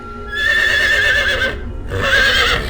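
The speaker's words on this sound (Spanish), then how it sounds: "el relinchar de un caballo se escuchó a lo lejos" A horse gives two loud, shrill whinnies in close succession, each a long wavering cry with a short gap between.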